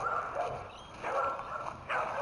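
Old dogs bark in the distance outdoors among trees, three faint, short bursts of barking separated by quiet pauses.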